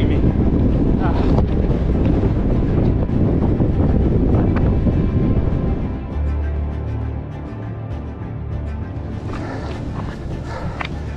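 Strong wind roars and buffets the microphone on the Kalalau Trail in sun and open exposure, loud and continuous before easing slightly in the later seconds.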